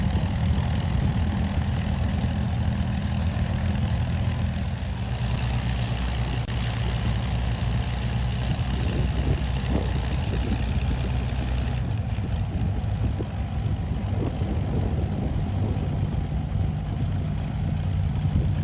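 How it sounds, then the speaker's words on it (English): The Lancaster bomber Just Jane runs its engines during a taxi run, producing a loud, steady, deep droning roar that holds without a break throughout, with no talking. "the taxi run always culminates in a static run up of the engine to full power"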